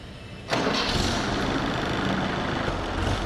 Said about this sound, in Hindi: इंजन शुरू करें।